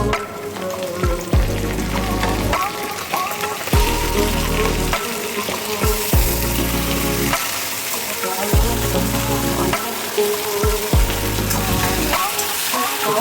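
Chicken pieces frying in oil in a pan for an Assamese-style chicken curry, a continuous loud sizzle broken by repeated stirring and scraping, with no talk over it.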